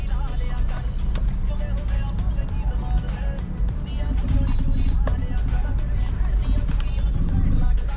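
Car engine idling and rolling out into busy street traffic in a crowded Surya Nagar neighbourhood, a dense continuous rumble with clatter and passing vehicle noise, fairly loud throughout.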